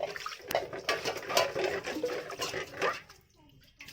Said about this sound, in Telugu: ఈ శనను కూడా శుభ్రంగా కడిగేసుకుందాం వాటర్ పోసి